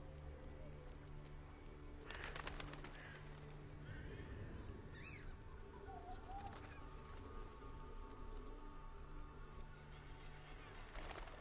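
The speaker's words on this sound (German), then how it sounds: "Was ist das da für ein Vogel gewesen?" Bird calls ring out in The Witcher video game at night, a few short, fairly faint cries standing over a steady ambient background of insects and wind, with no talk.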